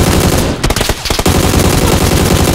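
Loud, close automatic gunfire from the battle royale game PUBG: a rapid stream of shots with a brief gap in the middle before the burst resumes, no talk over it.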